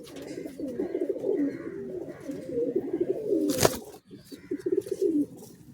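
Pigeons in a loft cooing continuously up close, overlapping throaty coos with a brief sharp clatter partway through, alone without any talk.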